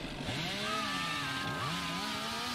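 A chainsaw revs in a video game, a steady buzzing motor with rising and falling pitch sweeps that runs loud and continuous throughout.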